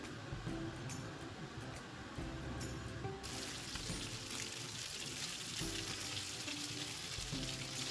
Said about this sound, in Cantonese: 將雞翼放落去，每面煎佢2分鐘